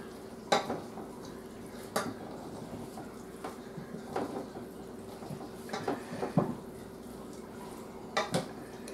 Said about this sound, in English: we're going to mix. We're basically just going to coat everything in the mustard garlic dressing